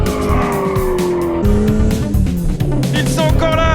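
A car speeding through a chase, its engine revving hard and tires squealing in long wavering screeches, loud and close throughout, with a shifting engine pitch as it accelerates.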